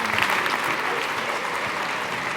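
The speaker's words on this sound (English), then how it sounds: "Let's give them a big round of applause." Dense, steady audience applause at a science talk on fusion energy, loud and even throughout with no pauses, after performers walk off stage.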